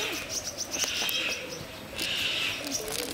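Several birds chirp and tweet at a mini zoo in KLB Garden, Borneo, in short, bright bursts over a faint outdoor hum.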